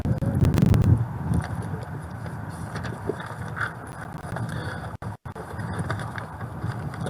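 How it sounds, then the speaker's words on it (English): Gusty wind buffets the microphone at an outdoor high school graduation ceremony, with a strong low rumbling burst early on, then steady wind noise continuing throughout. "It's windy."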